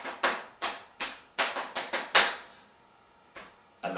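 Hands pat a rhythm on the knees with soft, dull slaps, a quick run of about eight followed by a pause and two more, close and fairly quiet.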